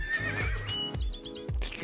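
A horse whinnies loudly and close, a long shrill neigh with a breathy snort, followed by a couple of short thumps and a second brief snort or whinny fragment near the end.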